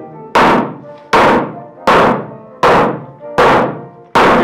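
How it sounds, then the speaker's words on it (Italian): A hammer pounding salt cod (baccalà), six heavy, evenly spaced thuds roughly every three-quarters of a second, each sharp at the strike with a short ringing tail, loud and close with no talk. "Suppongo che si batta il baccalà e non viceversa con il martello"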